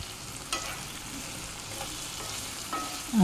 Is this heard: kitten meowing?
no